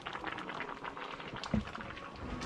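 Sinigang na hipon, a Filipino shrimp soup, boiling in a pot with a steady bubbling and gurgling patter, close and moderately quiet, with one brief louder pop partway through.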